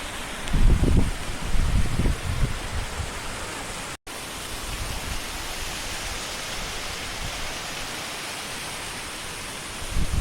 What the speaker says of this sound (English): We have our own very own waterfall out in the middle of Montana wilderness.